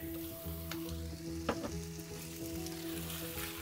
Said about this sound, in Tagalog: Kaya pag naluto na yung onion, garlic, ginger, ilagay ko na tong chicken.